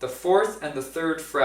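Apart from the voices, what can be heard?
None of the usual background noises is heard.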